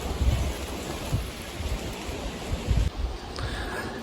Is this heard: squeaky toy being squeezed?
no